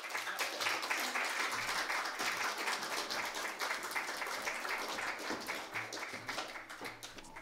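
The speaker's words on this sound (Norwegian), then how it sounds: "Gi en varm applaus." Audience at a lecture giving warm applause, steady dense clapping from many hands throughout, moderately distant and even, thinning slightly near the end.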